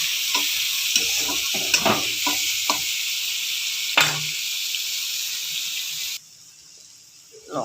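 Onion and tomato sizzle steadily in a pan with a loud, bright hiss, broken by periodic scraping stirs, before the sizzling cuts off abruptly near the end.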